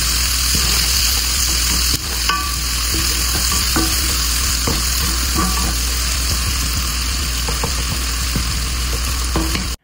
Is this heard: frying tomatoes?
yes